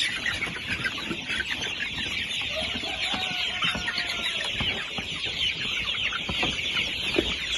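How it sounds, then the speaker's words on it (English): Free-range chickens on a farm cluck steadily throughout, a dense flock heard close by with overlapping calls and no talking. "free range chicken"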